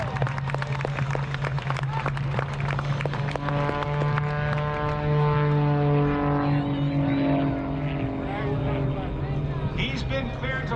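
An aerobatic propeller airplane at an air show hangs on its prop at near-zero airspeed, its engine droning loudly and then rising and sweeping in pitch. An announcer talks over it.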